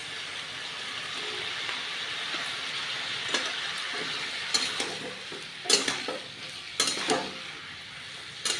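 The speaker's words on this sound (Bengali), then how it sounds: "একটু জল দিয়ে ভালো করে কষিয়ে নেব" Mixed vegetables stir-fried with a splash of water in a pan, a soft low sizzle with intermittent louder clattering stirs and scrapes.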